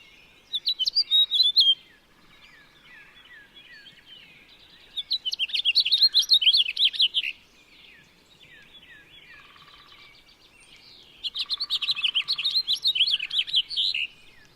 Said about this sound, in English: A house finch.